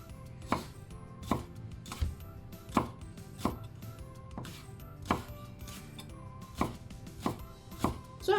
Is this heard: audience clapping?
no